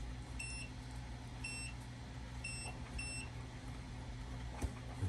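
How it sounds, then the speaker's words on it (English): Repeated short high beeps from a tack welder during a chain welding test, four evenly spaced double tones over a steady low hum, fairly clear and close, with no talk. "See, it's beeping."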